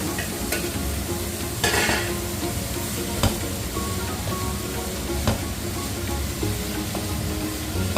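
Taro leaves stir-fried for fried rice sizzle in a hot pan in a steady, loud hiss, with a few sharp scrapes and clinks of a spatula stirring through.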